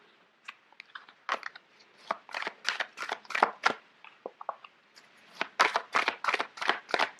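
Large tarot cards being shuffled by hand, a series of quick crisp riffling and slapping bursts in uneven clusters, close and fairly loud, with no talking.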